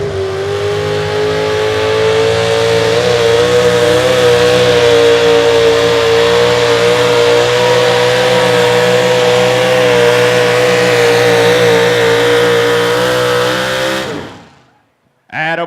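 A modified 4x4 pulling truck with a Ford Hemi engine roars at full throttle in an outlaw truck pull at Rock Valley, a loud sustained high-revving howl for about fourteen seconds before cutting off abruptly.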